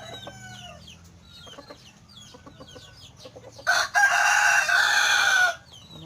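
Chickens cluck and chatter in short bursts, then a rooster crows loudly and close for about two seconds before the clucking resumes.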